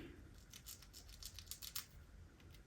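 Scissors snip through a bald cap at close range, a quiet run of crisp cutting clicks and rustling strokes, with no talking.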